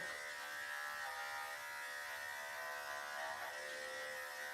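Electric dog grooming clippers with an old 7 blade run steadily through a doodle's coat at home, a continuous close buzz with a bright whine, holding level for the whole stretch with no talking.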